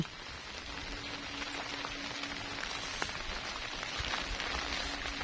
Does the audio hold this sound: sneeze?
no